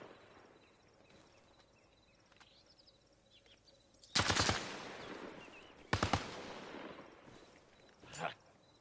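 Gunfire in Arma Reforger: two loud, close bursts of automatic fire a couple of seconds apart, followed by a shorter, quieter burst, over a low ambient background.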